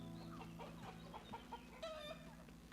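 A rooster in a video game clucks softly in a few short calls over a steady low musical hum, faint and alone.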